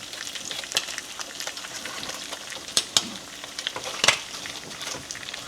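Salmon fries in a pan with Kerrygold butter and a splash of lime juice, giving a steady close sizzle with several sharp pops and crackles; no one talks.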